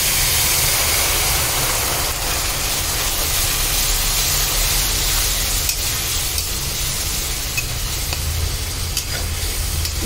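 Loud, continuous sizzling and hissing as water hits fried onions and spices in oil in a pan, a steady bubbling fry with occasional stirring scrapes, no talking.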